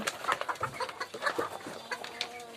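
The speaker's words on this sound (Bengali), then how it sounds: "মুরগিকে দিচ্ছি কলার কুচি" Free-range desi chickens cluck and squawk in quick overlapping bursts as they are fed chopped banana, a busy close flock calling in an uneven rhythm with no talk.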